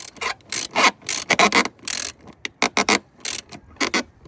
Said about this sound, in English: And then we'll tighten down these 2 10mm bolts.